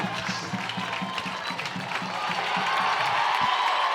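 Crowd at the Western States 2021 endurance run finish line cheering and applauding as runners cross, a steady wash of clapping and shouts with some talk mixed in, swelling slightly louder toward the end.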